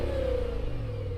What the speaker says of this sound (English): So I'm going to rev up this engine,